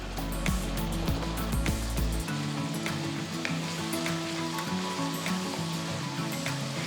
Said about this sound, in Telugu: దాంట్లో ఒకటి ప్యూరే చేసి వేస్తున్నాను